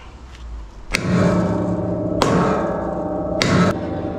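Three loud, sharp hammer strikes ring out on a metal trailer tire rack, spaced about a second apart, each leaving a short metallic ring.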